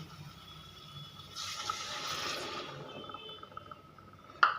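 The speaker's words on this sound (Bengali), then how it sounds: "এবারে আমি মিক্সি ধোয়া জলটা এতে অ্যাড করে দেবো" Water used to rinse a mixer is poured into cooking masala, a brief, soft liquid rush and splash in the middle, followed by a quiet background and a sharp clink at the end.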